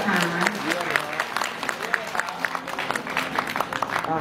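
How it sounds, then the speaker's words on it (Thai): Wedding guests applaud the couple in a continuous burst of clapping from a crowd, loud and close, with a voice speaking over it at times. "ขอเสียงปรบมือแสดงความยินดีกับทั้งคู่อีกครั้งนึงนะคะ"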